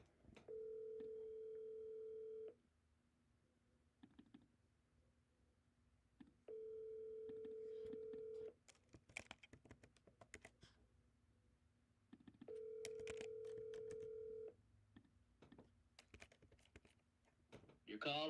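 A phone call is placed and rings back in three long evenly spaced tones, with quiet keyboard clicks and rustling between the rings.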